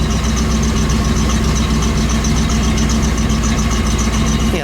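A 1973 Chevrolet Chevelle Malibu Classic Custom engine idles at a steady, even rumble, loud and close, with a muffled exhaust note and no talking over it.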